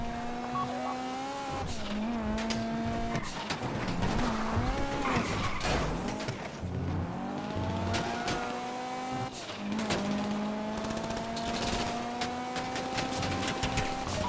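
A getaway car in Grand Theft Auto V roars along with a racing engine note, and tires squeal and skid repeatedly through hard turns in a continuous, busy stretch of driving.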